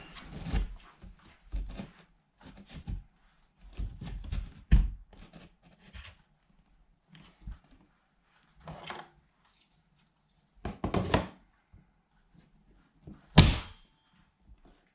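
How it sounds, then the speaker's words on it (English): An in-wall speaker is pushed into a sheetrock opening, with a series of dull thunks, knocks and mechanical clicks as its spring clamps snap into place, followed by a sharp final knock. "You basically push right there on the edge of the sheetrock and the speaker just kind of pops itself into place."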